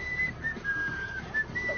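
Faint, breathy whistling in short broken notes, wavering and uneven over a quiet background.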